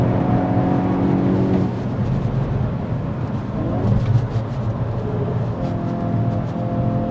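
A Hyundai Elantra N being driven hard on a race track, its engine roaring steadily from inside the car, dipping briefly and then pulling strongly again, loud and continuous with no talking.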